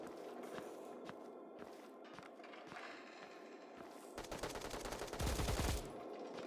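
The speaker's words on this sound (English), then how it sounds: "As I hear these gunshots, I am moving out towards that direction and looking towards that direction to stay alert and to see enemies" Gunshots in the mobile shooter Bullet Echo: regular single shots or footstep-like ticks at a moderate distance, followed by a denser, louder rapid burst of fire near the end.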